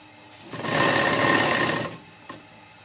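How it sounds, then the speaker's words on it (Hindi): A sewing machine runs one short burst of about a second and a half along a burqa pocket seam beside an opening for a zip, then stops, with a small click after. "जहां तक हमारा जेब ओपन है वहां तक हम इस तरह सिलाई कर लेंगे"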